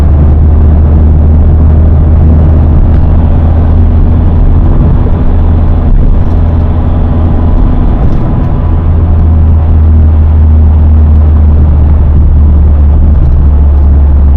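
A manual-transmission car accelerates in third gear on a driving-test route, its engine a loud, steady low rumble and whir from inside the cabin throughout, with no speech.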